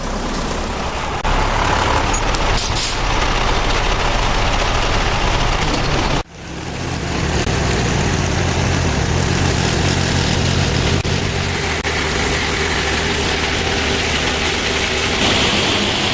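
A walnut hauler truck's diesel engine idles loudly and steadily, holding a deep rumble alone for the whole stretch except a brief dip partway through.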